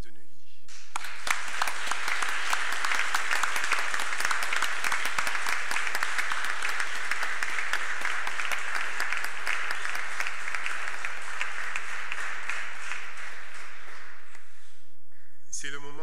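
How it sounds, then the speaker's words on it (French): A congregation at the Adventist church of Neuilly applauds newly baptized members at an afternoon baptism service, a loud, sustained crowd of clapping hands lasting about fourteen seconds before tapering off. "vous serez de tout cœur à applaudir ces baptisés pour leur souhaiter la bienvenue"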